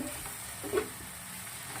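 Leafy greens sauté in oil with a soft, steady sizzle, and a brief stir or scrape stands out near the middle.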